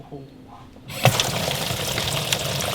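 Water rushes into a live well on a Nitro Z20XL bass fishing boat, starting abruptly after a quiet moment and continuing as a steady loud gush, with a brief thump near the start.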